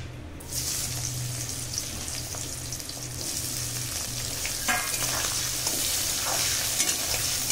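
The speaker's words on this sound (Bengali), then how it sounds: "দিয়ে দিচ্ছি কেটে রাখা পেঁয়াজ।" Chopped onions hit hot oil already frying with dry red chillies and bay leaf, a loud steady sizzle with stirring scrapes and clinks running throughout, no voices.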